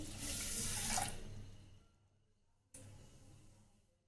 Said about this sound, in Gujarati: આ રીતે પાણી એડ કરી દઈશું.